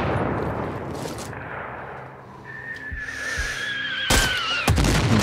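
Gunfire in the video game Sniper Ghost Warrior 3: several sharp, loud shots close together near the end, over a noisy combat background with a high whine.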